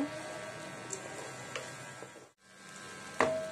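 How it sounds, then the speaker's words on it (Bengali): Soft, steady sizzling of onions frying lightly in a pan, with a few light clinks and scrapes and a brief quiet gap partway through. "এখানে পেঁয়াজ আমি হালকা করে একটু ভেজে নেব"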